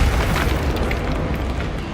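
A booming explosion from the Bombarda spell in the video game Hogwarts Legacy, a loud sustained blast with heavy low rumble filling the whole moment.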